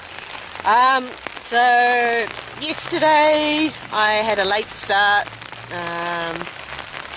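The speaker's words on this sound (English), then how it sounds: "I am sitting in my tent waiting for it to ease off the rain before I pack up" Rain patters steadily on a tent in a soft, continuous hiss throughout, while someone talks close by over it.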